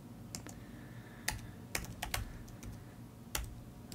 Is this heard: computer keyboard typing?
yes